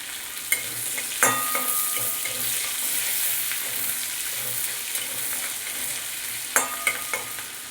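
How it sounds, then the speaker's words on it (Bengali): Chopped onion fries over medium heat in fish oil, a steady close sizzle with a few sharp spatula knocks and scrapes of stirring scattered through it. "দিয়ে দেবো পেঁয়াজ কুচি মিডিয়াম আঁচ করে দেবো"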